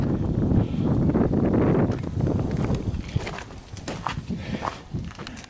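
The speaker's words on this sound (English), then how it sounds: "Hopefully this wind isn't causing too much noise." Outdoor wind buffets the microphone with low, rumbling gusts, strongest early then easing, while scrap metal such as air conditioners and refrigerators sits loaded on trailers; faint scuffs and knocks occur later.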